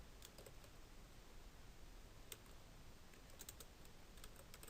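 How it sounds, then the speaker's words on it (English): Quiet typing on a computer keyboard, scattered light key clicks coming in small bursts over a soft steady background hiss, with no talking. "now we can just type this in."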